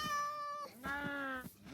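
A Minecraft cat meows twice in clear, drawn-out harmonic calls, the first longer and falling, the second rising then sliding down, with a short chirp at the end, close and alone.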